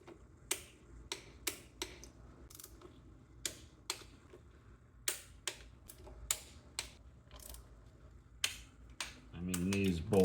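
A torque wrench clicks on head bolts of a 2002 Honda Civic engine, a string of sharp single ticks spaced a second or so apart, close and fairly quiet, with a brief rattling burst at the end.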